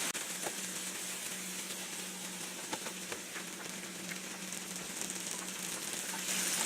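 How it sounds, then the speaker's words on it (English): Butter melting in a hot pan with garlic, making a steady, soft sizzle and light crackle, close and continuous, with a faint scrape or two and no voices. "Now I'm going to add another tablespoon of butter into my mixture. And I'm going to let that butter melt"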